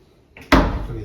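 A hotel room door or drawer in a Las Vegas room opens with a single sharp knock-like thud, loud and close, followed by a brief resonant decay in a quiet room.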